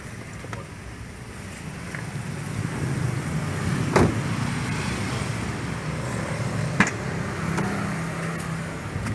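A 2011 Mazda CX7 2.3L engine fitted with an HHO fuel saver idles steadily with a low, even rumble, broken by a couple of sharp clicks or knocks.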